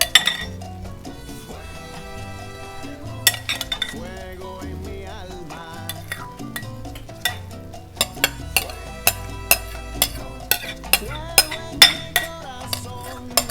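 A spoon clinks against a pot while sprinkling room-temperature vegetables over arroz con pollo: a run of sharp metallic taps and clinks, some spaced out and some rapid, over steady musical tones in the background.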